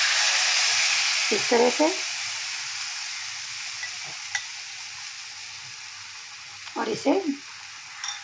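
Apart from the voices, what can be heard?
maida omelette batter poured into hot pan, sizzling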